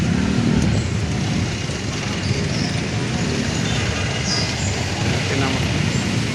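Busy street traffic in Divisoria, Manila, crowded with vendors: a dense, steady wash of road noise with vehicles and possible hoof clip-clop, close and continuous, with voices mixed in throughout.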